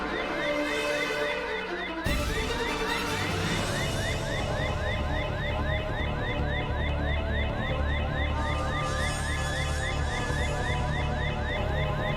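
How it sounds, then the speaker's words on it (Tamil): A house fire alarm rings with a continuous warbling electronic tone, loud and steady throughout after a sudden start, with a busy background of music and room sound. "இது வீட்டோட ஃபயர் அலார்ம்."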